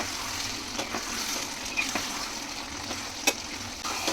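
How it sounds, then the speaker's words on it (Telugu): Thalassery chicken biryani is stirred in a pot. The mixture sizzles steadily, with soft scraping and a few sharp utensil clicks against the pot. No voices are heard. "ఇప్పుడు ఒకసారి కలుపుకుందాం."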